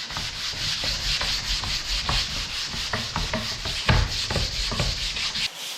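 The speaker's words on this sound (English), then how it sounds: "if you don't have a sander, you can use a regular sanding pad." A hand-held sanding pad rubs back and forth across a wooden door panel in close, loud, rhythmic scratchy strokes that continue steadily throughout, with no talking.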